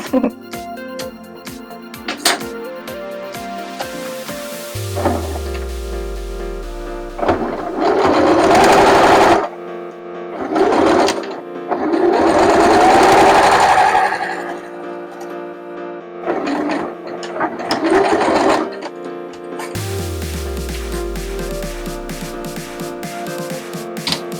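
A sewing machine stitches a cut-out V-neckline on fabric, its motor whirring in several bursts that speed up and slow down, separated by pauses with faint mechanical ticking and clicks.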